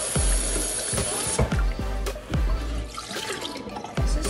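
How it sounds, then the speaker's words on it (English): Cold tap water gushes into a pot holding eggs, first as a steady hissing stream and then as splashing and sloshing with occasional knocks of the pot. There is no talk. "catch fresh cold water. You want to make sure the water is above the egg."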